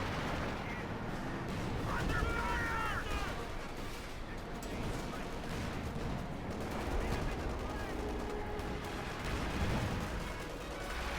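Howitzer fire and battle sounds in Company of Heroes 2, with repeated gunshot-like bursts and rumbling blasts layered over a busy, dense mix at moderate volume.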